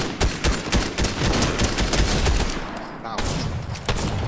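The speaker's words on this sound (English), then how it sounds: "Oh, someone's shooting." Rapid bursts of gunfire in a Fortnite squad match crackle loud and close, dense overlapping shots that drop out briefly near the three-second mark before resuming.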